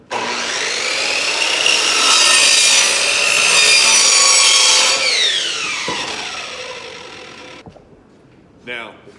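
A miter saw cuts through wood for a beehive frame, a loud steady whining buzz that winds down after the cut, followed by a brief rattle at the end.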